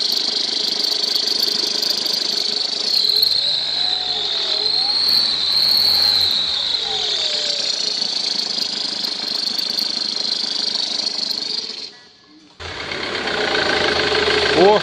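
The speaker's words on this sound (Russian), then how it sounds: "Ford Mondeo, шум мотора." A Ford Mondeo engine runs at idle in a repair shop, a steady close hum under a high whine from a faulty alternator overrunning clutch. It continues unbroken until a brief dip near the end, then resumes.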